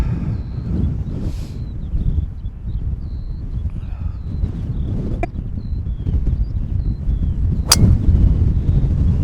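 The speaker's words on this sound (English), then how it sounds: "Just got to get a good tee shot away." A golf driver tee shot on a long, windy championship links hole gives a single sharp crack against heavy, blustery wind rumble, with faint birdsong in the background.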